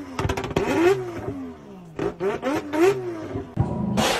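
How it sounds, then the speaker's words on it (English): Ford Mustang engines rev in short, loud bursts, rising and falling in pitch with gaps between, heard close over some background voices. "all Mustangs just sound the same"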